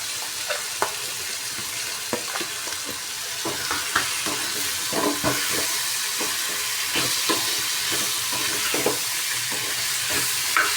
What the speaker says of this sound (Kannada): ನೋಡಿ ಈರುಳ್ಳಿ ಟೊಮೊಟ ಸಾಫ್ಟಾಗಿದೆ ಇವಾಗ ಆಲೂಗೆಡ್ಡೆ ಮತ್ತು ಕೊತ್ತಂಬರಿ ಸೊಪ್ಪನ್ನ ಹಾಕೋತಾ ಇದ್ದೀನಿ